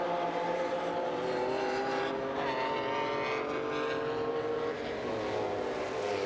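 Sports racing car pulling away after a spin in a championship race, its engine rising in steady harmonic tones over continuous loud track noise and other cars, sustained throughout.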